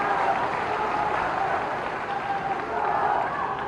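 A large crowd at a political rally in Morena, India, applauding to welcome a leader, a continuous wash of distant clapping that swells and dips without pause, with crowd murmur mixed in.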